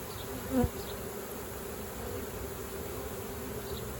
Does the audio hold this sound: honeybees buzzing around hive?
yes